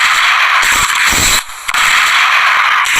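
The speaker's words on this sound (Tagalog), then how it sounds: "And ganito naman yung tunog ng Federal M20Z tear gas launchers" A Federal M201Z tear gas launcher, used by police during a riot in Macau, fires amid harsh, loud noise, with a sharp whooshing discharge partway through, a brief drop to near silence, then the noise resumes.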